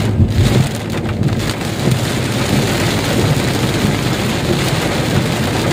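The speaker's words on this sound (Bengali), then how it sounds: "গাড়ির উপরে ছাদের উপরে বৃষ্টি পড়ছে" Heavy rain drums steadily on a car roof during a downpour near Tarapith, a dense, continuous hiss-and-patter that stays loud and close throughout, with no voices.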